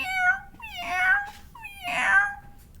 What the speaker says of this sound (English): a mewing and crying as if all the sad spirits in the world were set loose.